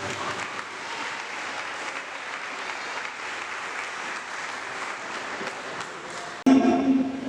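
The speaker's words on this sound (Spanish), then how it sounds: "Denle un aplauso a Cristo." Church congregation applauding, a sustained even wash of many hands clapping for several seconds before cutting abruptly to a louder, brief burst at the end.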